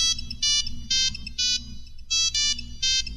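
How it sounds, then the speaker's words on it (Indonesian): A mobile phone ringtone plays a bright, melodic electronic tune in repeated bursts, loud and close, over a low steady hum. "mendadak HP-ku berbunyi"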